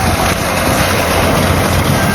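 Strong water rushes steadily through a spillway, a loud, constant broadband roar with no pauses, heard up close.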